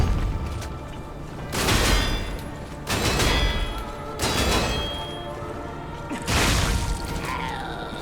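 Machine gun fire in the video game Lies of P comes in four loud, dense bursts of rapid shots spaced a second or so apart, with heavy impacts and a low game backdrop between them.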